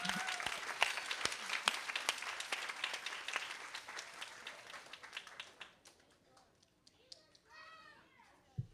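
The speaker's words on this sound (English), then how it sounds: "All right, give yourselves a round of applause" Audience applause at a kindergarten stepping-up ceremony at Merrick Academy: dense, fairly close clapping that thins out and fades toward the end, with talk breaking in at the close.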